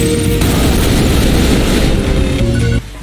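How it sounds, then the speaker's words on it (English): A rail cannon fires in the fast shooter game ULTRAKILL, a loud sustained blast with a dense roar that cuts off abruptly near the end. "The fourth weapon is the rail cannon"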